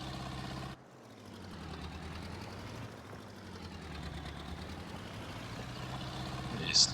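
A tractor engine works hard in a field during ploughing, losing some grip: a steady, loud, low diesel drone runs unbroken through the whole stretch.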